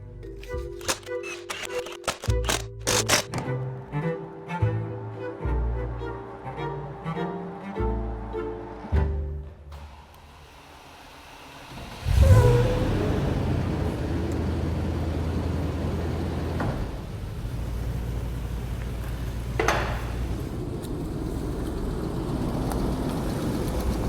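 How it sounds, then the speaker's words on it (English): Car tyres crunching slowly over gravel, a steady low rumble and rustle with engine noise close by, preceded by clattering workshop sounds. "The movement of gravel under rubber, that is fantastic."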